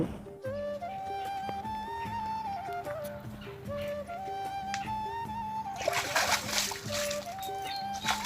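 Water splashes and sloshes as chopped water lily (shaluk) stalks are washed in a basin, rising loudly toward the end over steady background music.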